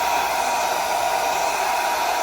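A hair dryer blows steadily at close range, a loud, even whooshing hum with a whining motor tone and no voices.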